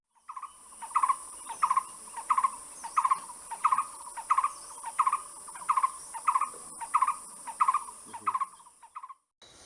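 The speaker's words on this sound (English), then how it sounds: "This is a large scimitar babbler." A large scimitar babbler in Thailand gives a clear series of about a dozen evenly spaced, hollow whistled notes in a steady rhythm, close and distinct against a quiet background.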